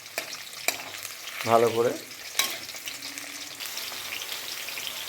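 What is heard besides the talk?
onions frying in a pan until lightly brown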